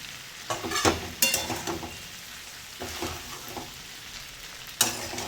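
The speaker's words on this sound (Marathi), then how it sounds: "आता 1 मिनिटानंतर ते परतून घ्यायची आहे आणि भेंडी अशी एकदम फार नाही हलवायची" Okra sautés in a pan with a soft, quiet sizzle, broken by several short scraping stirs of a spatula against the pan at irregular intervals.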